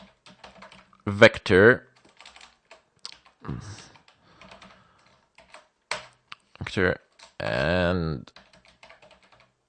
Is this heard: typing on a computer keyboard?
yes